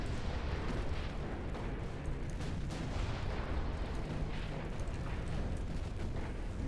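Warship gunfire in a naval battle video game: a steady dense rumble of distant cannon booms and blasts, loud throughout with no talk.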